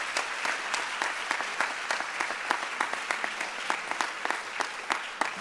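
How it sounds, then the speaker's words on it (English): A crowd at an awards ceremony applauds the new college counseling team, steady even clapping from many hands sustained for several seconds without speech. "I think an applause for that new threesome"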